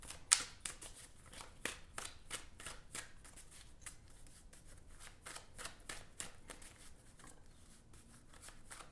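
Tarot cards are shuffled close up, a quick series of crisp riffling snaps and soft slaps in an irregular rhythm, with no one speaking.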